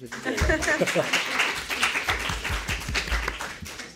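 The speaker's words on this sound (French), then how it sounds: "Vous pouvez applaudir." Audience at a university round table on Parisian queer cabaret claps, scattered hand claps rising and thinning, with overlapping talk and a bit of laughter close by.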